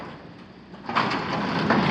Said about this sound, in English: That door just jumps right on up.